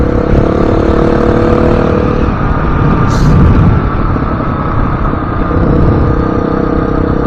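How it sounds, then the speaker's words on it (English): A motorcycle engine drones steadily at high revs, revving out hard, rising briefly near the middle before settling back, loud and continuous with no voices. "I don't like the way it sounds, like it's revving out like crazy"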